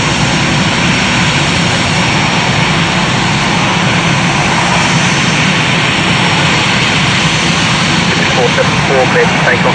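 A Cathay Pacific Boeing 747-412 roars down the runway at Heathrow on its takeoff run, a loud, steady, broadband jet-engine rumble and hiss filling the whole stretch without letup.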